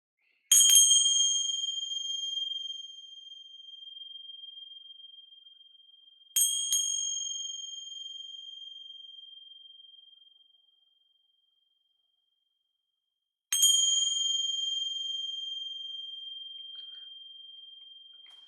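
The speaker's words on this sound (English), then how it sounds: "Gonna ring some bells here." Three separate strikes of a bell ring out, each a bright metallic ding with a long, slowly fading ring. They are spaced several seconds apart against near silence.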